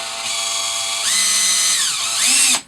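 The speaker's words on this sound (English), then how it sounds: "I've got a drill bit, and I've got to drill these out just a little bit." A power drill whirs steadily, its pitch dipping and rising as the bit bites into metal, then cuts off abruptly.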